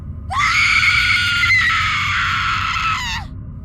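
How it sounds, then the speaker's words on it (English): A woman's shriek of terror, one sustained high scream lasting about three seconds, loud and close, with no other sound around it. "So all she could manage was to release a shriek of terror."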